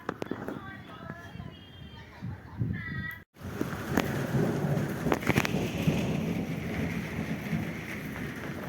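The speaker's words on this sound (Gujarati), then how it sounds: "ઝીણો ઝીણો વરસાદ ચાલુ થઈ ગયો છે" Rain falls in a village as wind keeps blowing, a continuous splattering hiss with a rumble of thunder; a person talks over it in the first few seconds before the rain sound fills in louder.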